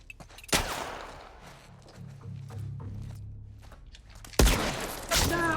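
Gunfire in The Last of Us Part I: two sharp, loud shots about four seconds apart, the second followed by further bursts, with quieter movement and low rumbling between them.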